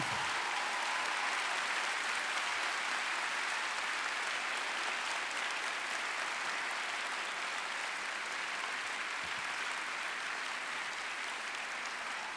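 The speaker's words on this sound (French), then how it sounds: "Vous pouvez applaudir Audrey Fleurot, s'il vous plaît" Audience at a Series Mania festival masterclass applauds a guest actress, dense steady clapping filling the room, loud and sustained throughout with no talk.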